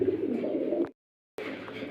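Pigeons coo close by in two bursts separated by a short moment of silence, warm throaty murmurs filling each stretch.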